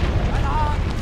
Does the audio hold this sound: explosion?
yes